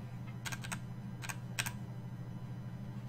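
Close, crisp keystrokes on a computer keyboard come in small bursts of three or four clicks over a steady low hum, with pauses between the clusters.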